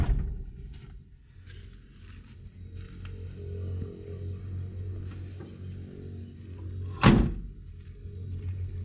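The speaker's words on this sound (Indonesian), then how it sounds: "Pintunya ditutup juga masih oke guys." A 2008 truck's door is shut once, giving a single loud solid thud about seven seconds in, over a steady low engine idle with some faint background noise.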